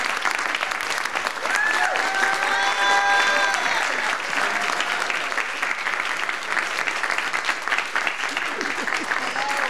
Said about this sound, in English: now y'all can stand up and clap for April Ryan